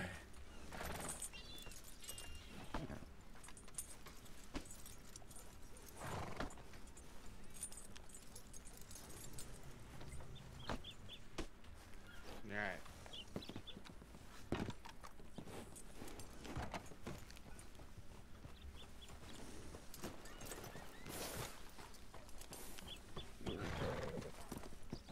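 Horse hooves clip-clop in a steady walking rhythm in a western roleplay video game, the ridden horse moving at an even pace over a quiet ambient bed, with occasional talk and a brief whinny.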